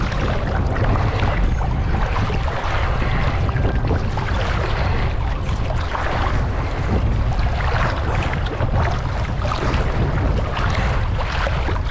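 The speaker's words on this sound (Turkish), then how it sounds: "Koca koca dalgalar." Big sea waves on a Turkish holiday beach in the evening make a steady, loud, unbroken roar of surf and churning water, close to the microphone with wind buffeting, and no voices.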